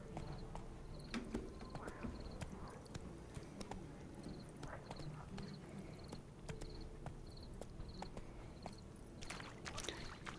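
Roach, the horse in The Witcher 3, clip-clops along in a steady trot through a swamp, the hoofbeats moderately close under chirping insects and a faint ambient bed, with no talk.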